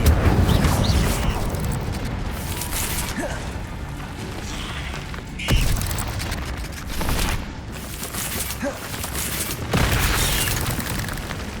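The Incendio fire spell is cast repeatedly in the game Hogwarts Legacy, with loud whooshing blasts and booming impacts over a dense combat din, several sharp bursts standing out, with no talk.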